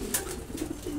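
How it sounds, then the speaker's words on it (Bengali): Male racer pigeons coo in soft, repeated low calls close by, a few brief notes over about a second. "আমার এগুলি সব নর কবুতর"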